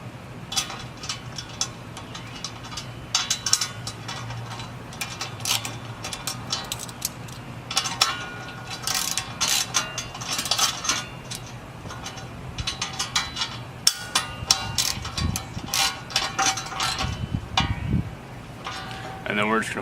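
Bolts tightened on a tuning-plate baffle for an Oklahoma Joe's 3-in-1 combo horizontal offset smoker: busy metallic clinks, ratcheting and rattling of hardware in irregular bursts, close and moderately loud.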